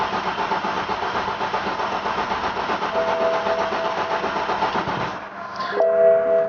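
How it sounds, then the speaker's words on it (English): A BMW 528i engine cranks repeatedly with a rapid, rhythmic churning but never catches, fuel drained for a high-pressure fuel pump replacement, then stops and a chime sounds. "crank the car over until it no longer starts and just cranks."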